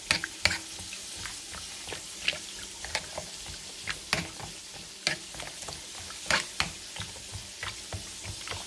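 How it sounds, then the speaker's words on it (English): Turkey chops in a pan being stirred to break up powder seasoning, giving a run of scraping clatters and soft sizzling, wet clicks at an irregular rhythm, close and fairly quiet with no voices. "Stir all the powder up."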